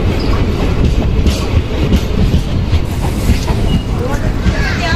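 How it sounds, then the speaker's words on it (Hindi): An Indian train hauled by a WAP-4 electric locomotive rolls into the station at Tata, a loud, close, continuous rumble with wheel clatter filling the clip, and voices are faintly present. "अपनी ट्रेन आ चुकी है WAP-4 के साथ टाटा में।"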